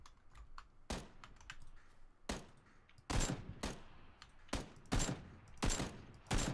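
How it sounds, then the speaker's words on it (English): Gunfire in PUBG: Battlegrounds cracks out in sharp bursts and single shots, some loud and close, others fainter, amid the clatter of keyboard keys. "Someone's shooting that guy."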